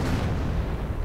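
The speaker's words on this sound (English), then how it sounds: "And the artillery gets the Panther." Video game artillery fire strikes a Panther tank, a dense, rumbling boom with a sustained low roar that fades slowly, loud and close, with no talk.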